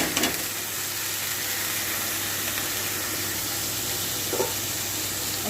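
Chopped potatoes go into a pan of fried onion with turmeric for a bitter gourd and potato fry, producing a dense, even hiss of frying that stays steady and close throughout, with a brief stir near the end.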